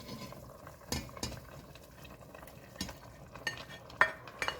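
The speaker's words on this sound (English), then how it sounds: "We're going to go ahead and add all of our meat back into the pot." Meat tipped back into a pot of borscht and stirred, with a few spoon knocks against the pot and soft clatters over a low simmering bed, no talking.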